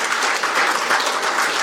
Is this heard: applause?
yes